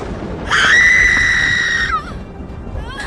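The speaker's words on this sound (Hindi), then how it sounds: "अचानक झोपड़ी के अंदर से एक दर्दनाक चीख सुनाई दी" A woman's sharp, pained scream rings out from inside a hut during a storm, sustained for over a second and loud, then breaking off into a shorter wavering cry that fades.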